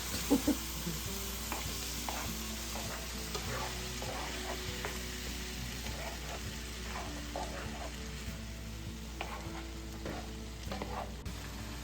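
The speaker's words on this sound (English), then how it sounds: "I'm going to go ahead at this point and add in my fire roasted diced tomatoes" Fire roasted diced tomatoes sizzling in a pan, with a steady low frying hiss and repeated soft stirring clicks and scrapes across the whole stretch, no talking.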